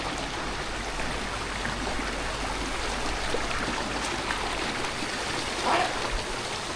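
A waterfall-like stream pours over slippery ground at a hidden spot near Bacheli, giving a dense, constant rushing hiss heard up close, with a brief splashy flicker near the end.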